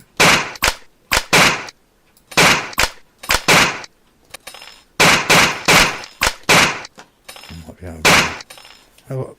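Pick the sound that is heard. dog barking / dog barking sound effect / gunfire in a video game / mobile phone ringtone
gunfire in a video game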